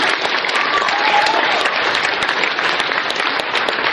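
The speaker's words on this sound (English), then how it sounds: "Huge round of applause for them." Sustained applause from a sizable crowd at an anime convention, dense and steady clapping throughout with no gaps.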